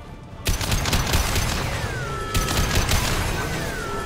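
Rapid bursts of gunfire in the sci-fi shooter game Mass Effect 2, aimed at injection tubes, with loud sustained fusillades starting around half a second in and again near the middle, ringing electronic whines trailing between volleys.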